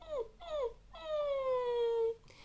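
A singer's voice imitates a puppy's whimper as a vocal exercise, giving two short falling whines and then one long, drawn-out whimper, close and clear.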